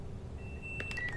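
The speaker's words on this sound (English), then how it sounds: "Wait for the alarm to sound again." AWS alarm tone in a train cab in Train Sim World 5, on a Glasgow Central to London Euston service: a steady thin tone over low cab hum, then a few quick bright beeps near the end.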